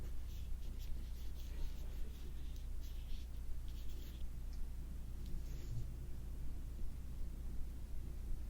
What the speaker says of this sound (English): I'm going back over the lines with the pen to make the sparkle stand